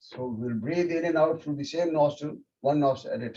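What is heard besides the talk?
No everyday noise stands out behind the speech.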